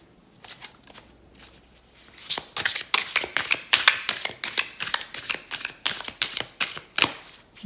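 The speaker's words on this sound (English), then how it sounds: "Good hard shuffle." Cards are shuffled close up: a few light taps, then a rapid run of crisp, stiff riffling snaps in quick succession, fairly loud against quiet surroundings.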